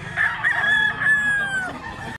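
A rooster crows once close up, a single drawn-out cock-a-doodle-doo lasting about two seconds with a falling tail, loud and alone.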